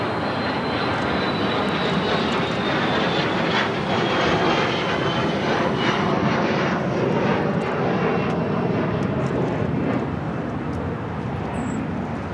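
Airbus A380 jet taxiing at Los Angeles International Airport, a steady loud engine roar and whine that holds without pause throughout, with no talking.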